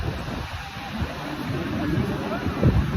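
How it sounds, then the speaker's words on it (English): Chilly wind buffets the microphone outdoors at Daytona Beach, with gusty low rumbling and surf in the background that swells toward the end. "So the wind is kind of chilly, but it's nice out."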